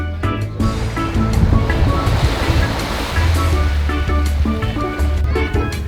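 Loud surf washes continuously at a beach in Huatulco, Mexico, waves breaking and rushing close by with a wind-buffeted roar and no pauses.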